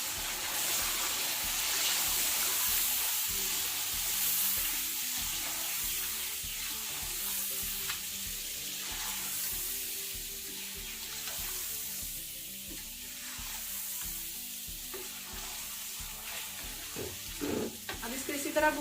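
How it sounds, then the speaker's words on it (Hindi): Chicken with tomato, green and red chillies, turmeric and salt sizzles and fries in a pot for chicken pulao, a steady close hiss with occasional stirring scrapes and no talk. "अब इसको इसी तरह भूनते रहना है।"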